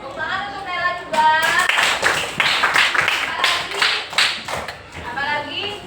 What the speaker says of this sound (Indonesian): Tepuk tangan untuk Naila juga